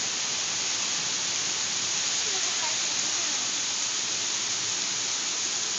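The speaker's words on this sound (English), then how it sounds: "Say it's raining." Heavy rain pours down steadily outdoors near a house, a dense, constant hiss filling the scene with no let-up from start to finish.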